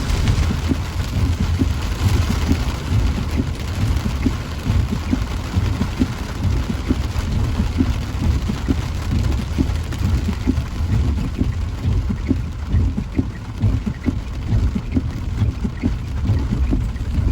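Steady, heavy rain pours down without a break, a dense continuous hiss with low rumbling underneath.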